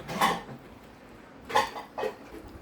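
A spoon mixes a bean and meat stuffing with Parmesan cheese in a bowl: three clinking, scraping strokes against the bowl, the first and last two spaced apart, fairly close and clear.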